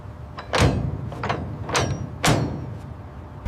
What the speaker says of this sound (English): Once full, the heavy doors are swung shut and sealed.